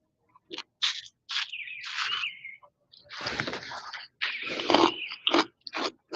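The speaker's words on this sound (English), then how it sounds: "we're going to give it a little bit of a taste." Watermelon salsa being tasted from a home kitchen, close crunchy bites and wet chewing in short bursts separated by brief pauses, with no talk over it.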